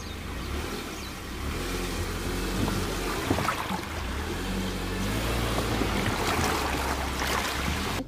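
A car crossing a deep water stream in Kauai, Hawaii, with a low steady engine drone and water sloshing and churning around it throughout, no voices heard.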